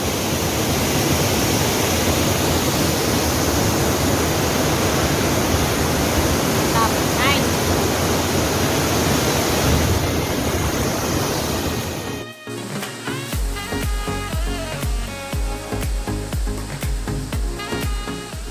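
Siringo waterfall pours into a natural pool, making a steady, dense rushing roar that fills the first twelve seconds before it cuts abruptly to music.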